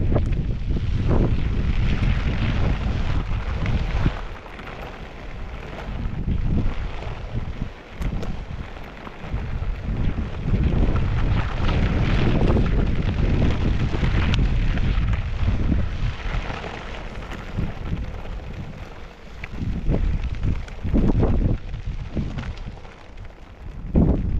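Strong wind roars and buffets a microphone while riding a Ground Industries TKP mountainboard outdoors, a loud, continuous rumbling gust that surges and dips throughout.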